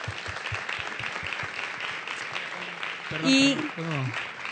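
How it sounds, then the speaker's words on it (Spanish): A studio audience at a caricature show claps in a broad wash of applause, with a voice briefly cutting in near the end. "démosles un gran aplauso a todos"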